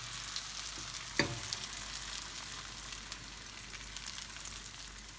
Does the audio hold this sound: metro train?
no